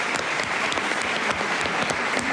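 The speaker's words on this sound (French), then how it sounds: "On peut t'applaudir encore bien fort." A studio audience applauds continuously, a dense, even patter of many hands clapping at once, fairly loud and uninterrupted throughout.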